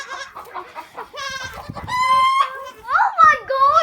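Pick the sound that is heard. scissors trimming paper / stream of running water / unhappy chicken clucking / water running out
unhappy chicken clucking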